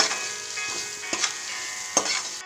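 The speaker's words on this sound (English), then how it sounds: "I'm now going to stir this well." Prawn masala frying in a pan while being stirred, with a close, bright sizzle broken by several sharp scraping strokes of the utensil against the pan, and no talking.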